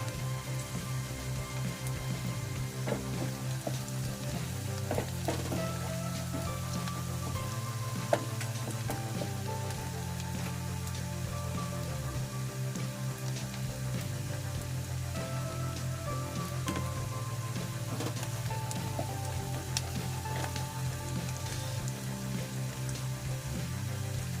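Garlic sizzling in a pan while cooking cheesy shrimp, a steady close frying hiss throughout with a low background hum and a few faint clinks.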